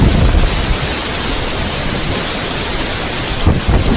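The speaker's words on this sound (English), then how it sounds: "the sheer power and noise of that storm are enough to give anyone nightmares" Violent thunderstorm with heavy rain: a dense, continuous roar of downpour with deep rumbling swells of thunder near the start and again toward the end, loud and close.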